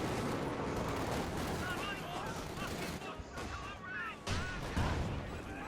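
Artillery and tank gunfire from a Cromwell tank in the WWII strategy game Company of Heroes 2, a dense battlefield din of booms and firing with fainter chatter underneath.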